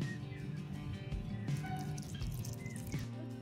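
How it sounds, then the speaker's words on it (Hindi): Water is poured onto a freshly planted portulaca (moss rose) cutting in a hanging pot, giving soft, steady splashing and dripping close by, fairly quiet throughout with no talking. "अब हम इसमें पानी दे देते हैं।"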